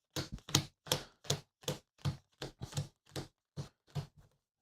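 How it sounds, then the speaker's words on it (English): Playing cards for the Final Girl board game being shuffled by hand, a quiet series of about a dozen crisp, evenly spaced slaps and flicks with short gaps between them and no talking. "So I'm going to shuffle these up"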